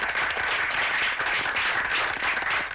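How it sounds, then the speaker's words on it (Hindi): Steady applause from an audience at a retirement honour ceremony, dense clapping sustained for a few seconds before cutting off abruptly. "तालियां।"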